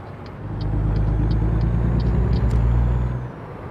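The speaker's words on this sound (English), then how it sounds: "Let's brake and go in. This Kenworth sounds amazing." A Kenworth truck in American Truck Simulator braking, a steady low engine rumble swelling louder for a few seconds and then easing off, with faint regular clicks above.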